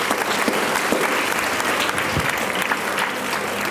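Dense, steady applause from a large audience at an education event, loud and continuous clapping throughout.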